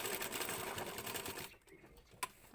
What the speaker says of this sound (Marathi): आता ही गळा जी आपलं आरीवर केलेला आहे त्याच्यावर पाव ते अर्धा इंच सोडून तिथपर्यंत शिलाई मारायची